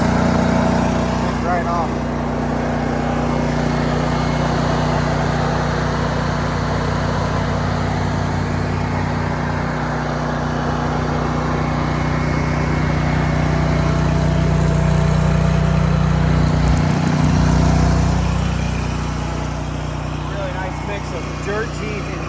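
A Barreto 36-inch trencher with a cold, low-hour engine starts and runs at a steady idle, a continuous mid-loud engine drone heard nearby for about twenty seconds while someone speaks over it.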